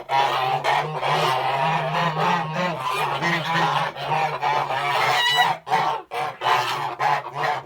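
A flock of geese honks loudly and almost continuously, calls overlapping close at hand, breaking into separate honks toward the end.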